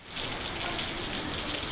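Steady rain pours during a flood in Balagayol, a dense, constant hiss of water that fills the short stretch evenly with no talk over it.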